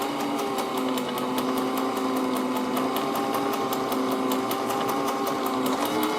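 A sewing machine runs steadily and close by for several seconds, its needle ticking in a fast, even rhythm over a constant motor whir, with no talking.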